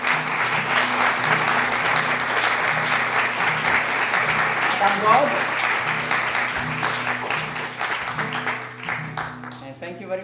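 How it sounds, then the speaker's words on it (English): A theatre audience applauds loudly and steadily throughout, a dense wash of clapping over low sustained music, with a voice briefly calling out near the middle. "A big round of applause."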